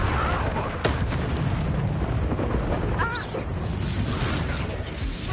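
Incendio fire spell cast in a Hogwarts video game, a dense roaring whoosh of flame with booming bursts sustained over several seconds, with brief voices mixed in.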